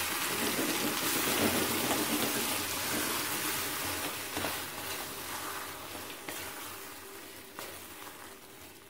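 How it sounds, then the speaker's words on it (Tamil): Water splashes and pours steadily into a cooking pot while washing it out during kara kuzhambu preparation, a continuous close hiss and trickle that gradually softens. "நல்லா இதை கழுவி தண்ணி ஊற்றிடலாம்"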